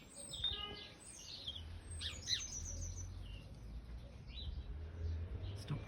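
Sparrows chirp in a small woodland garden, a busy mix of short bright calls and twitters scattered throughout, moderately close, over a steady low background rumble.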